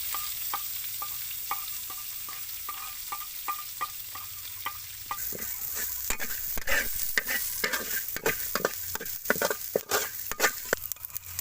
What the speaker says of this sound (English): First we fry cassoulet, lemongrass and also chili.